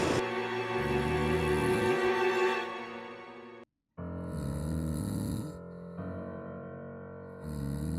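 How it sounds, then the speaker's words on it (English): A woman snores steadily and loudly through the night, with deep rasping breaths that cut out briefly for a moment of silence before resuming. "snored for a couple of hours, but I needed her to stop"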